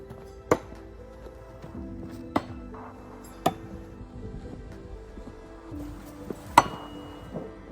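A thrown tomahawk chops into a wooden target four times, each a sharp single thunk standing apart from quiet gaps and faint background hum.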